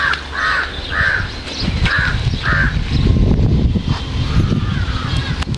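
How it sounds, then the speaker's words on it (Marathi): Crows caw loudly in a rural farm setting, five harsh calls in a quick series near the start, followed by wind buffeting the microphone and rustling outdoor noise. "इकडे कावळ्यांना पण काय झाले आरडायला लागलेत."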